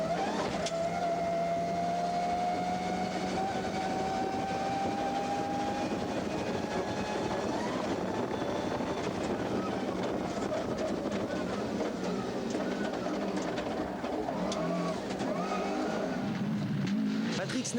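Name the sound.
rally car driving on a stage, Rallye des Hautes-Fagnes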